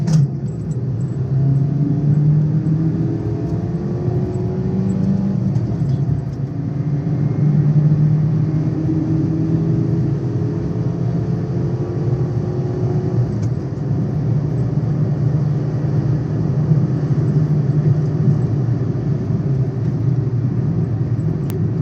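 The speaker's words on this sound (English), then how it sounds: "Do a standing start." A Toyota Yaris pulls away hard from a standing start alongside a Porsche Boxster, a steady low engine drone with rising harmonic sweeps as it climbs through the revs, continuous and fairly loud throughout without talk.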